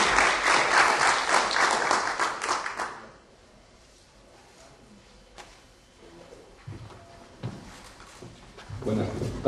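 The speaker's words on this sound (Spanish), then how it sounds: "Por favor, un fuerte aplauso" A conference audience applauds loudly for a speaker at a Peruvian labor law event, a dense burst of clapping lasting about three seconds before fading into quiet room noise and shuffling.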